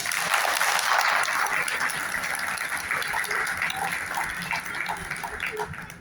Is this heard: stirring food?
no